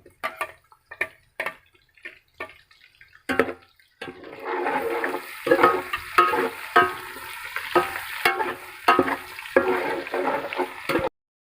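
Garlic, ginger and onion frying for beef pulao, a steady sizzle with repeated stirring scrapes after a few sparse clinks at the start, close and moderately loud.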